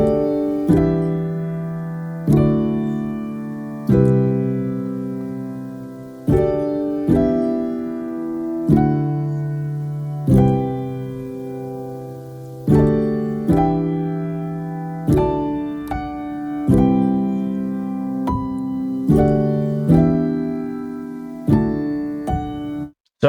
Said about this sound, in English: This is the MIDI for the piano